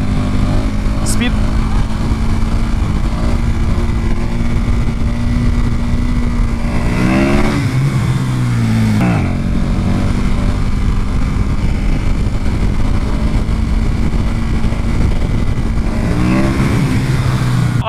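A Mercedes car accelerates hard with wheel spin, its engine roaring loud and close with rising revs, while people shout and talk excitedly over it.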